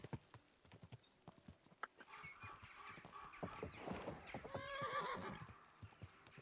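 A horse galloping in Kingdom Come: Deliverance II, its hooves clip-clopping in a steady rhythm, with a whinny partway through and wind or motion noise swelling as the ride speeds up.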